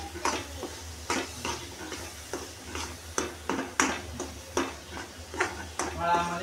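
A spatula scrapes and knocks rhythmically against a pan while cashew curry masala is stirred continuously, the strokes coming about every half-second over a soft sizzle, with faint talk in the background.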